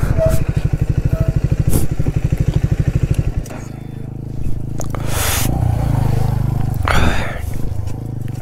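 A motorcycle engine, hot after a long ride from Navi Mumbai toward Pokhara and Muktinath in Nepal, idles with a rapid, even thumping for about three seconds close by, then gives way to a lower rumble and wind.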